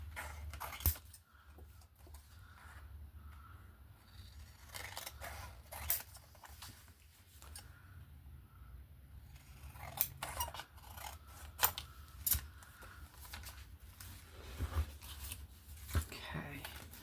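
Scissors trim paper for a grungy handmade journal, giving quiet, sparse snips and soft rubbing at close range against a hushed room.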